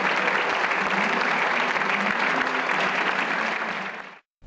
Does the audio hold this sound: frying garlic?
no